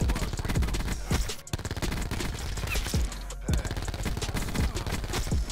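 Skorpion EVO submachine gun firing in a video game, loud rapid bursts of automatic fire with short pauses between strings of shots, close and dominant throughout.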